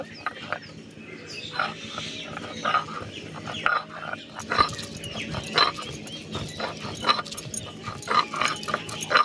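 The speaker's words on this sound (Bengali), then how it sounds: "আমি শিলনোড়ায় বেটে নেব, আপনারা মিক্সিতে পেস্ট করে নিতে পারেন। এইভাবে বেটে নেব।" Jackfruit is ground by hand on a traditional stone slab with a grinding stone, a shil-nora. It makes a rapid, rhythmic run of close scraping and knocking strokes, fairly loud and continuous, with no talking over it.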